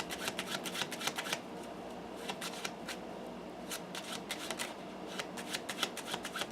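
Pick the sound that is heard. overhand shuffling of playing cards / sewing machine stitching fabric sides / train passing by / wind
overhand shuffling of playing cards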